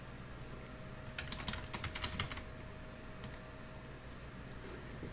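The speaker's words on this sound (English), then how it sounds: "Oops, I typed in the incorrect password." A password being typed on a computer keyboard: a short, quiet burst of quick keystrokes in the middle, then a faint, still room.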